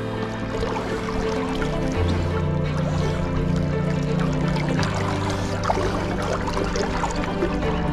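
An electric outboard motor drives a boat across water, giving a steady low hum with water splashing and trickling along the hull throughout.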